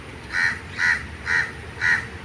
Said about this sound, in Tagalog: May uwak pa doon sa kabila.